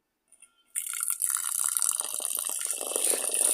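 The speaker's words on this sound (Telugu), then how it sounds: "ఇప్పుడు అందులోకి మూడు గ్లాసులు నీళ్లు పోసి నానబెట్టుకోవాలి" Water poured into a bowl of soaked black gram, starting with a few drips then a steady close gushing pour that continues to the end.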